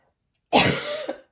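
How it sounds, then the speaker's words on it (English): A single sharp cough, close and fairly loud, bursting out after a moment of silence and trailing off with a brief second catch. "I have a cough like waiting to come out."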